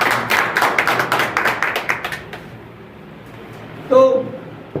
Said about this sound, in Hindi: कुलदीप नारायण गौड़ जी, जरा इनके लिए ताली बजा भैया।